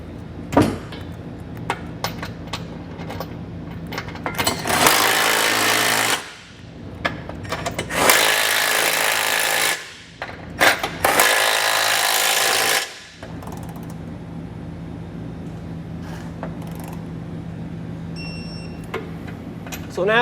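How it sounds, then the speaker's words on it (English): Power tool bursts tightening the bolts of a Curt trailer hitch receiver with a 19mm socket on a 2020 Nissan Pathfinder, two long loud runs of a few seconds each, close by, with quieter clanks and ticks of work between them. "Now we'll go ahead and tighten and torque all of our hardware using a 19mm socket"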